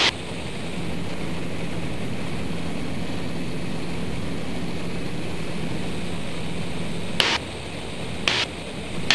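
The engine of an aerobatic propeller airplane drones continuously through two aileron rolls flown back to back, with a constant loud hum that fills the cabin. Near the end, short sharp bursts of static or wind break through the drone.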